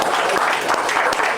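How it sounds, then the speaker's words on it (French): Brief burst of audience applause at an official signing ceremony, a steady wash of many hands clapping with a few sharper individual claps standing out. "Il a dit on applaudit encore"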